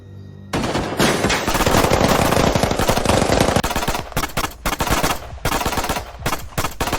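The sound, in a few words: gunfire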